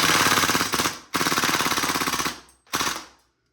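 KTC Tec-9 airsoft gas blowback gun firing full auto: three rapid bursts of fast, even clattering shots, the first two long and the last one short, loud and close with brief gaps between trigger pulls.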